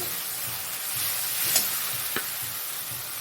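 Spice paste being stir-fried in oil for a fish curry gives a steady, close sizzle and hiss throughout, with a few brief scrapes of the spoon stirring, and no voices.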